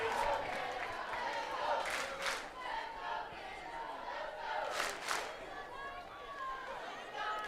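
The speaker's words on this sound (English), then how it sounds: "The crowd appealing to the Canadians." Spectators cheering and shouting at a women's U20 international rugby match, a mid-distance crowd roar rising in surges under a commentator's voice.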